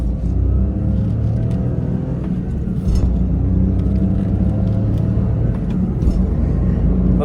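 A Suzuki Jimny with a cold air intake hums along the road in fifth gear, a steady low engine and road rumble heard from inside the cabin.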